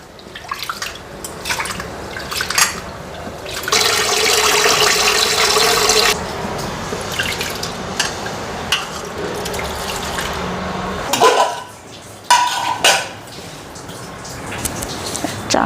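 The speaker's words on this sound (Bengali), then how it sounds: "এখন চালটা ধুইয়া নিই" Rice is washed in a pot with water in a home kitchen, with intermittent splashing, swishing and pouring, including a few seconds of running water, close and moderately loud.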